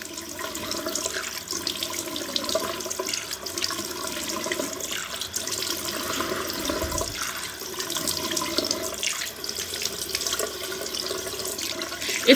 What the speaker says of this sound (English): I just rinse with warm water.